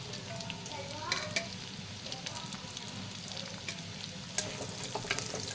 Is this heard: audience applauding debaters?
no